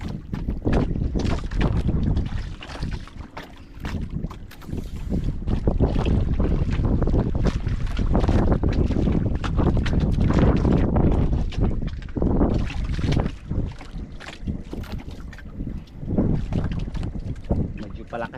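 Strong wind roars and buffets the microphone over open water, with boat and wave noise and occasional voices underneath.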